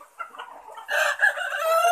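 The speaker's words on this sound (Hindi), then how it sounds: "ये है मुर्गा, ये है मुर्गा, ये है मुर्गा" A rooster on a farm gives short clucking calls followed by a louder, close crow in about two seconds of audio, with no talking.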